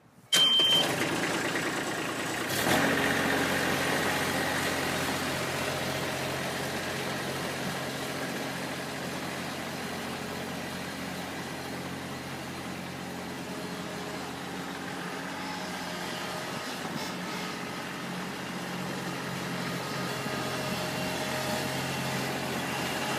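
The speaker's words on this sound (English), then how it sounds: "I'm going to fire this machine up and head for the trailer over here" A joystick-steered power equipment machine's engine starts with a sharp burst, then settles into a steady, loud idle that continues without talking.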